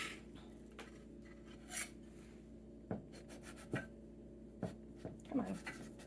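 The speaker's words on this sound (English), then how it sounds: "I wanted to get audio of cutting this because it's so crispy." A knife cuts through a crispy apple tart, producing a handful of faint, crackly crunches spaced a second or so apart in a quiet room.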